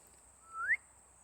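A single short rising whistle from a bird, clear and close against a quiet room.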